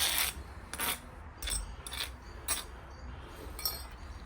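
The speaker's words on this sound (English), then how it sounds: "put your jointing iron on it, compact it" A steel jointing spoon works mortar into a wide patio grout joint outdoors, producing a series of short, close scraping rasps in an uneven rhythm, six or so strokes with brief pauses between them.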